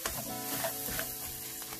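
Tomato paste fries in a pan over low heat, giving a steady close sizzle with faint stirring scrapes throughout and no talking.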